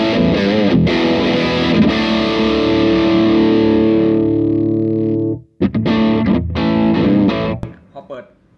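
Electric guitar played through a Visual Sound Jekyll & Hyde distortion pedal on its distortion channel, giving a thick, bass-heavy modern crunch; sustained chords ring loudly, cut off briefly, then return with a few more strums before fading.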